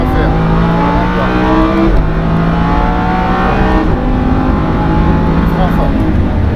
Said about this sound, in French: Allez, on accélère plein fer.